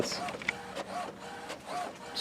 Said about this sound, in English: let's send something to the printer, and I'll do several different things